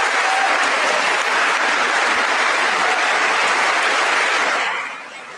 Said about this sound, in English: that applause caught the king by surprise